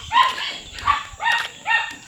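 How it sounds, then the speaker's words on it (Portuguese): Several small dogs bark in the background outdoors, four short bursts of yapping spaced about half a second apart, moderately distant and clear. "Uns cachorrinhos ali latindo, né?"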